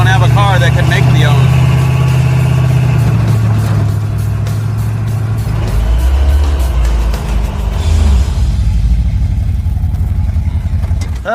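Ford Mustang Mach 1 from a junkyard, its engine loud and close, idling with a deep rumble and then revving up and falling back, while people talk over it.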